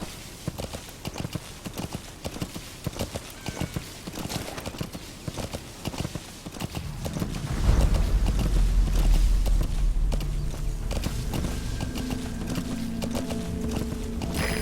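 A horse gallops in Metal Gear Solid 5: The Phantom Pain, its hooves beating a steady, fast clip-clop rhythm up close, with a deep rumbling layer building midway and continuing to the end.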